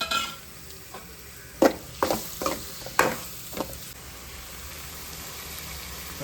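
Large cleaned prawns go into a hot pan and are stirred, with a handful of scraping clatters over a soft, continuous sizzle close by.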